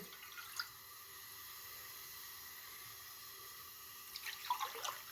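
Water poured into a pan on the stove for turmeric tea (haldi ka kahwa), a faint steady hiss and trickle with a brief splash near the start and louder splashing toward the end, no talking.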